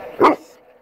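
A single short dog bark, close and fairly loud, in an otherwise quiet moment.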